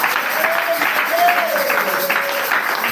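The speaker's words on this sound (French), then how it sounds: "Acclamez très fort pour la gloire du Seigneur." Congregation applause in a French-speaking church service, steady and fairly loud throughout with a sustained tone or voice line beneath.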